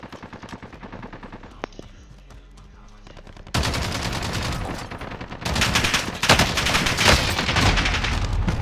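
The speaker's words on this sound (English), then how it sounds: "Somebody just shot me, I don't know where." Rapid automatic gunfire in Call of Duty: Warzone, starting as a quieter distant burst and swelling into loud, dense sustained volleys that continue to the end.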